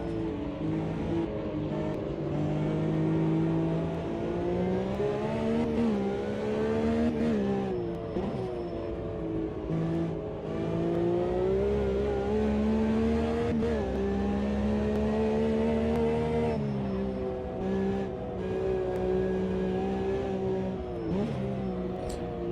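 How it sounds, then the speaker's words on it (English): A race car engine in Automobilista 2 drones and whines continuously, its pitch rising and falling as it revs through gears, loud and close with no talking. "You can hear the engine sound"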